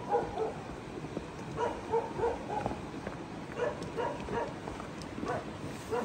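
Dogs on a mountain hike up Mt Kupapey, one a guide dog named Loki, give several short yips and barks at a middle distance over steady outdoor noise.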